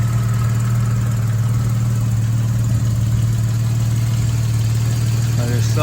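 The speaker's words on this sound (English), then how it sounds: "Motor running nicely, about 550, 600 RPM." A preserved classic car's engine idles smoothly at about 550-600 RPM, a steady low hum that runs unbroken throughout, with a faint rattle near the end.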